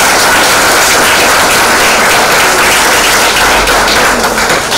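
A crowd claps steadily for nearly five seconds after a presentation on archives and archival legislation at a public administration school, broad even applause that eases slightly at the end, with no talk over it.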